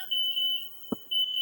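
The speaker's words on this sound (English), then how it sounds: "And there's the timer." Kitchen timer going off in a cooking show kitchen: a loud, piercing high electronic beep tone sounding in long sustained bursts with a brief gap, close and alone, with a single soft knock between.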